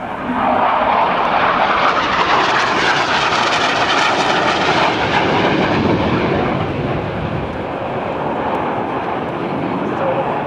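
A loud, continuous jet engine roar from an AV-8B Harrier II with a Rolls-Royce Pegasus engine at an airshow fills the air, a broad rushing blast that stays strong throughout and eases slightly near the end.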